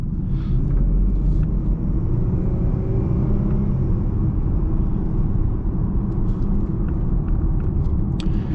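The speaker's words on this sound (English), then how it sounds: "You do get a little bit more tire noise, excuse me, with these giant wheels and tires." Steady low road roar and tire hum from a Dodge Charger SXT on oversized 22-inch wheels and tires, heard from inside the cabin while driving, constant and fairly loud with no talking.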